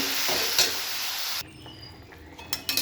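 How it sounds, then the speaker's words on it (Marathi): Dill greens fry in hot oil in a pan, a loud steady sizzle with stirring that cuts off abruptly, leaving quiet clinks of utensils against the pan. "भाजी मी परतून अशी तेलामध्ये घेतलेली आहे"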